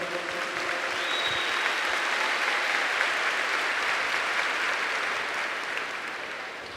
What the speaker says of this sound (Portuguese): Now clap. Agora pode aplaudir